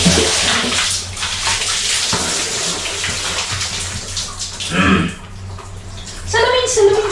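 Water gushes steadily from a tap during a bath in a home, a loud broadband hiss with splashing shifts, while a child and an adult talk over it.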